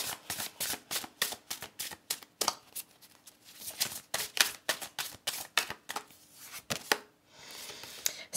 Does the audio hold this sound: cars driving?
no